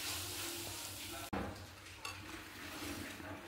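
Chutney frying in a pan as it is stirred, a continuous sizzle with scraping stir strokes and a brief clink of a utensil partway through.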